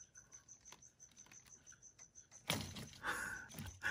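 Feeder crickets chirping in a steady, high-pitched pulsing rhythm, fairly faint, with a burst of rustling and clattering near the end.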